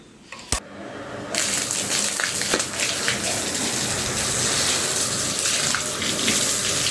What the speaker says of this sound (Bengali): এটাকে আমরা প্রথমে ধুয়ে ভালোভাবে এটাকে একটু পরিষ্কার করে নিই